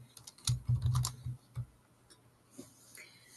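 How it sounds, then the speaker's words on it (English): Quick taps on a phone's on-screen keyboard come in a rapid cluster, then a few scattered taps, quiet and close with faint room noise. "I don't even know what I'm typing here"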